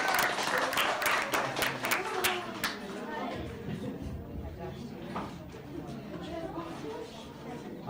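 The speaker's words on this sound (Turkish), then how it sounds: "Ona da bir alkış alalım." Applause and scattered clapping from parents and guests at a school award ceremony for student achievement, loud at first then thinning into crowd murmur and chatter.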